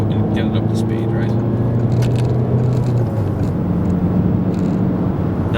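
A Peugeot 508 picks up speed on a motorway, heard as a steady low engine and road rumble inside the cabin while someone talks over it.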